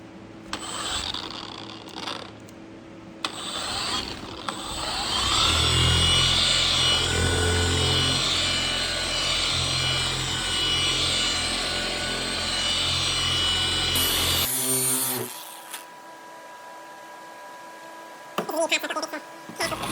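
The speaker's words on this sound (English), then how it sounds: "So just going to condition this pad and get it roughed up." A worn polishing pad being conditioned and roughed up with a power tool on a farm, giving a steady loud whirring, scraping grind that runs for about ten seconds before cutting off, with voices in the background.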